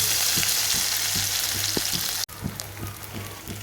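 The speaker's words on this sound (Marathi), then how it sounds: "तेल छानपैकी तापलेलं आहे मोहरी घालूया त्यानंतर जिरे त्यानंतर लसूण अद्रक" Mustard seeds, cumin, garlic and ginger sizzle steadily in hot oil, a dense close crackle with soft popping ticks; it cuts out briefly midway, then resumes.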